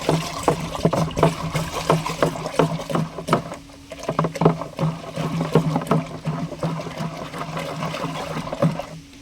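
A cow-based organic liquid preparation being stirred by hand in a container of water, producing steady sloshing and swishing splashes that keep going close by throughout, with no voices over the churning.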